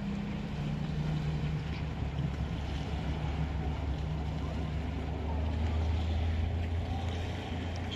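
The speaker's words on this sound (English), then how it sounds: "A little bit of wave action right now. I love the sound of it." Waves lap steadily on the shore of Canyon Lake, Arizona, a continuous low wash mixed with gusty wind noise on the microphone and no talking.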